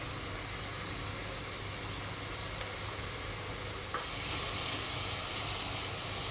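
Onion and spices cook in a pan, giving a steady, even hiss with no break that grows slightly brighter and louder partway through, and no voices.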